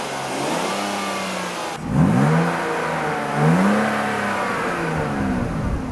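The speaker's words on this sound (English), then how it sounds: "I take a seat in this car and just rev it a little bit" A BMW E39 that had sat for over seven years, its engine rising in two short revs from a steady idle, close and clear with no talking.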